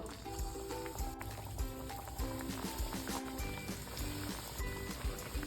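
Breaded chicken balls frying in hot oil, a faint, steady crackling sizzle with small popping bursts throughout, under a quiet tonal background.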